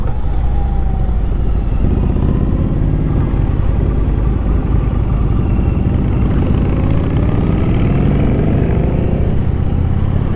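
A 2018 Indian Chief Dark Horse bobber motorcycle cruises along, its V-twin engine rumbling loud and close in a deep continuous drone with rising pitch as it accelerates, wind noise underneath.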